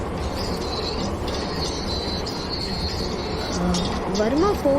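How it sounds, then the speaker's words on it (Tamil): Metro train construction noise plays back from a phone recording as a loud, dense rumble of heavy machinery, with a thin whistling tone and rising metallic squeals near the end. "மெட்ரோ ட்ரெயின் கன்ஸ்ட்ரக்ஷன் சத்தமும் கேக்குது"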